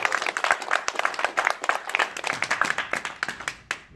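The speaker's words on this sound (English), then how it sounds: "so please give him a big round of applause" Audience applause at a political activists' meeting, a fairly small crowd clapping in distinct, close sharp claps that gradually thin out toward the end.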